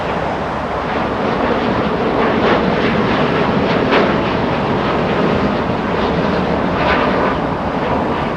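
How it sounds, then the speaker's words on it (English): Small executive jet landing at Los Angeles International Airport, a loud continuous engine roar and rushing noise that stays steady throughout, with no voices. "that little jet, the executive jet, the one that we zoomed into as it landed in the north, that's the one making all the sound here"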